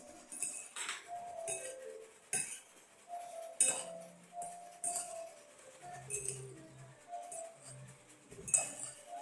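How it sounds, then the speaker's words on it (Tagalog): Utensils clink and scrape against a bowl while spicy cooked noodles are stirred, producing irregular light metallic taps and scrapes at close range with no talk. "Haluin natin to guys."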